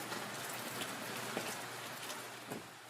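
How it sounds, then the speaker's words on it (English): Dense, heavy rain pours steadily in Quirino, Philippines, with a close, broad hiss and occasional louder drops spattering through it. "The rain is so heavy, it's not funny."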